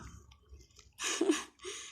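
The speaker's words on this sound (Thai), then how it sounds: "ลูกชิ้นลูกเดียวถุงเงินใช้เวลากินนานมากก็ดูเคี้ยวเอื้องใหญ่เลย" A young pet with small teeth chewing a meatball, giving soft, wet, squishy chewing bursts up close, with quiet pauses between the louder chews.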